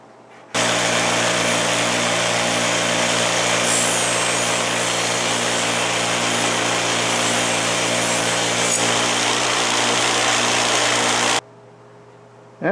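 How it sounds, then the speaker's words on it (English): Scotch-Brite abrasive wheel polishing scale off a steel lawnmower blade being made into a knife, a steady loud whirring grind running continuously for about eleven seconds before stopping. "we're going to another instrument, the Scotch-Brite wheel here, where we're going to proceed to polish the blade and take some of this scale"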